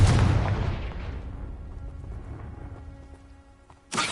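A Confringo blast spell in Hogwarts Legacy bursts loudly at the start as a broad explosive boom, then rumbles and decays over several seconds, with a second sharp burst cutting in right at the end.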